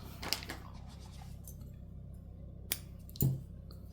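Scissors snipping excess yarn off a crocheted Yoshi piece, a few brief dry clicks and snips spread out over near-silence, close and quiet.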